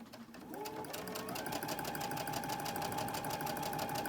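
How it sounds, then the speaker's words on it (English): A sewing machine runs continuously at close range, chain stitching quilt pieces one after another with a fast, even mechanical whir and needle rattle. "I just pin them all, and then I will sew one right after the other"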